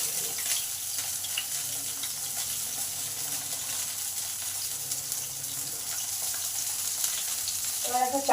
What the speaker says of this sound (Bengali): আবার কিছুটা তেল দিলাম বেগুনগুলো ভাজার জন্য